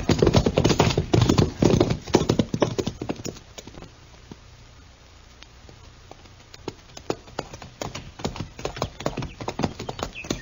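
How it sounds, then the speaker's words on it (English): Horse hooves clip-clop in a steady rhythm for a radio western drama, loud and close at first, fading to a quieter stretch midway, then returning more sparsely toward the end, with no talk. "Come on, we'll ride back to Stanley's ranch."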